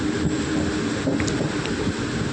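Steady, loud rumble from on board the Kozhikode Jan Shatabdi Express running through Kerala near Vallathol Nagar, with continuous wheel and wind noise and no talking.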